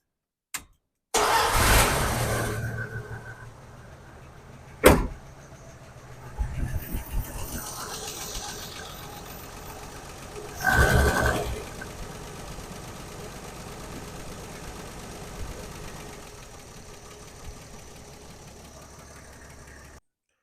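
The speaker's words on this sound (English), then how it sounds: "Well, I've got the valve cover off, fired up, bring the engine up to temperature." A Mopar slant six with its valve cover off cranks, catches and runs while warming up, with loud revving bursts settling into a steady, slightly uneven idle and no talking.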